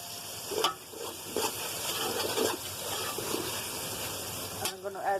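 Tomatoes dropped into a pan of onions, ginger, chili and garlic frying for chicken biryani give a steady close sizzle, with stirring scrapes and a few sharp clatters and splashes throughout.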